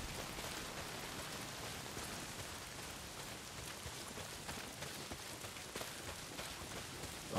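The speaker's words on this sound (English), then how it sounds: "Well, not if it's pissing down rain." Heavy rain falls in the video game Days Gone, a dense, steady hiss of drops on surfaces with scattered louder patters, constant and enveloping with no voices.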